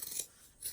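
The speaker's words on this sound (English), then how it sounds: "I'm just going to trim this with regular old scissors" Regular scissors trimming fabric for a frame: a couple of quick, close snips with a brief crisp rasp, quiet and alone with no talk.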